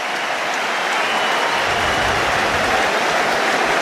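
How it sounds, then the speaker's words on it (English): England supporters at an Ashes Test cricket match stand and applaud, a dense, steady wash of clapping from a large crowd that carries on evenly throughout without any voices. "England supporters on their feet, applauding an innings they won't forget"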